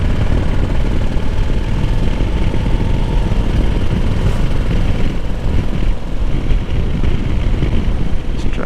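A Honda Africa Twin DCT motorcycle rumbling steadily at low pitch during a ride, mixed with loud constant wind buffeting on the microphone, with no voices.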